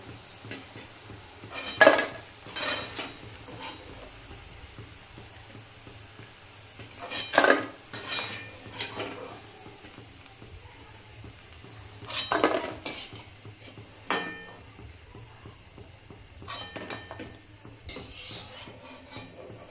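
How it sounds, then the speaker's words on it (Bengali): Crunchy fried pakoras lifted from a pan of hot oil, with a few clear clinks of a metal utensil against cookware, scattered bursts separated by quieter gaps over a faint background sizzle, close and moderately loud. "এবার আমরা তুলে নিচ্ছি এগুলোকে, ফুলুরিগুলোকে। কতটা ক্রাঞ্চি হয়েছে শব্দটা শুনেই বুঝতে পারছেন।"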